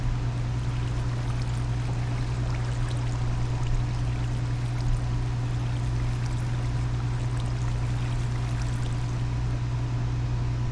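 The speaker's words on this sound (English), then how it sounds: "It made more water." Water flows steadily in the Minecraft modpack FTB Skies 2, a soft continuous stream over a low constant hum with no talking.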